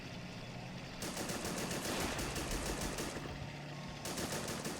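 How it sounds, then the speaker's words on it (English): Rapid bursts of .30 caliber machine gun fire in a World War II Battle of the Bulge video game, a loud steady rattle that starts after a second, breaks briefly and resumes, with no talk. "But that 30 cal is accurate, you know? It's a good gun here."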